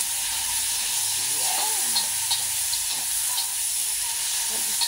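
Onion, tomato and chili sautéing in a hot pan give a steady broadband sizzle throughout, with faint stirring scrapes and a brief voice over the frying.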